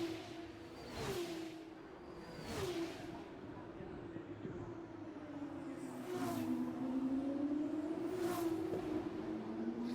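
Formula 2 race cars in the F1 24 video game at Silverstone, several engines whooshing past in turn with rising and falling pitch over a steady engine drone, accompanied by commentary.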